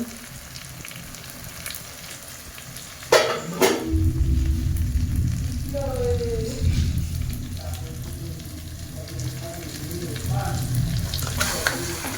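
Mutton pieces drop into hot spiced oil with a sudden loud sizzle that settles into a sustained close frying hiss with occasional scraping stirs and clatter; no speech.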